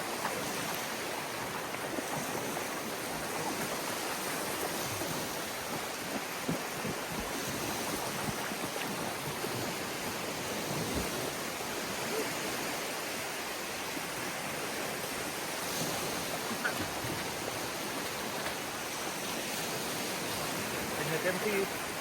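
Sea waves wash onto the beach at Koh Kood in a steady, broad rushing hiss that stays constant and fairly loud, with faint voices beneath.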